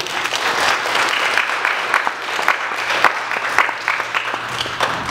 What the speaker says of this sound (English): So let's give the Lord a big clap offering.